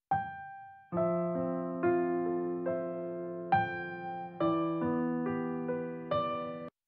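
A sequence of bright piano chords through a high pitch synth preset, each struck and decaying, about eight in steady succession, clear and upfront with no voices.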